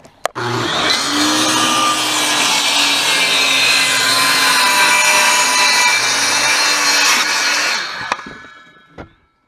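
Power saw cutting through plywood on a farm, one loud continuous buzzing cut lasting about seven seconds that starts abruptly and tapers off, with small knocks at either end.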